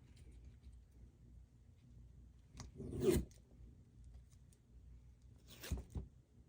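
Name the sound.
curling ribbon with scissors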